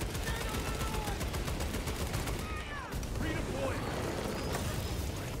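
Rapid gunfire from Warhammer 40,000: Space Marine 2 rattles steadily for several seconds while the shooter hovers in midair, dense and continuous, with a voice talking over the shots.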